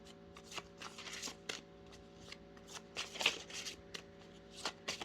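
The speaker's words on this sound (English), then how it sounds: "I'm just going to shuffle it a couple of times" Repeated quick riffling bursts of tarot cards being shuffled close by, crisp papery flutters in an uneven rhythm against a faint background hum.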